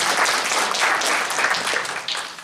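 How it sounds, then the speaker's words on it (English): Audience applause at a health conference panel, a steady dense wash of clapping that holds at an even level throughout with no voices over it. "Round of applause to Autumn for that."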